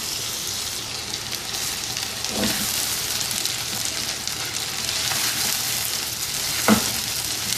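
Chicken frying in a karahi produces a continuous dense, loud sizzle like steady rain, close up, with a couple of brief stirring scrapes and no speech.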